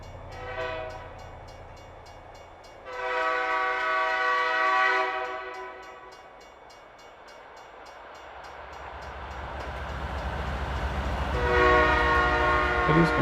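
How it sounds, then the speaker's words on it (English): A train passes in American Truck Simulator, rural Illinois, with a loud horn sounding in two long blasts and then a third rising near the end over a steady low rumble of rolling wheels. "There's the train."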